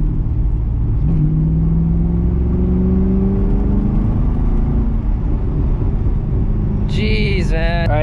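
A car's engine revs hard as the driver blips the throttle in second gear, the pitch climbing and falling in steady surges, loud and close inside the cabin, with a brief higher whine near the end.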